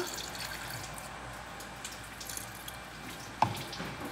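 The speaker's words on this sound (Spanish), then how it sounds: "Vamos a ponerle poquita agua" Tap water pours steadily into a drink, a faint, continuous hiss of running water with one small splash near the end and no talking.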